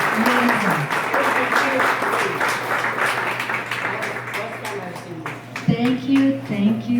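Steady applause from a crowd fills the whole stretch, with a voice speaking over the clapping near the end.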